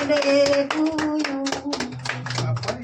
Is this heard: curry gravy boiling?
no